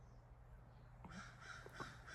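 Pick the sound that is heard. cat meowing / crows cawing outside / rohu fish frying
crows cawing outside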